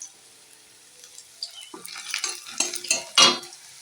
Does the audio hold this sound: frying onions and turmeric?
yes